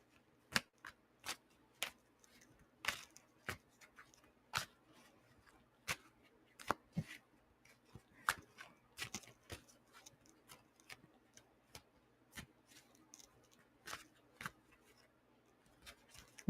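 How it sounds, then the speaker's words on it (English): Tarot cards are shuffled by hand in a quiet room, producing sharp, irregular riffling snaps and clicks in uneven bursts, close and fairly soft against near silence. "This keeps coming up while I'm shuffling, Maurice."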